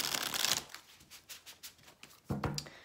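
Tarot cards riffled and shuffled by hand: a dense burst of card flutter, then a run of soft, evenly spaced slaps and snaps, ending with another sharp riffle, close and quiet with no talk.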